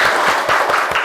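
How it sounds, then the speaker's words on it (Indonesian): Schoolchildren in a classroom break into a brief, loud burst of clapping, close and busy, lasting about a second. "Tepuk tangan buat kalian semua."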